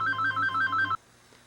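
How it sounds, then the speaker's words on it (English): A telephone rings in a workshop, a rapid trilling electronic bell pulsing for about a second before cutting off abruptly, loud and close, with no one talking. "here comes the phone already"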